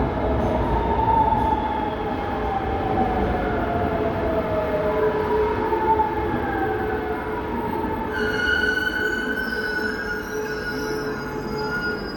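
A metro train in China pulls into a station platform, its loud rumbling roll and rising, drawn-out wheel squeal filling the whole stretch, with a brighter metallic whine joining near the end.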